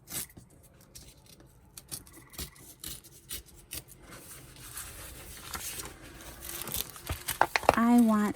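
Brown packing paper being torn by hand, a dry ripping and crinkling that builds over several seconds and ends in a louder rasping tear close by, with a voice speaking softly in between.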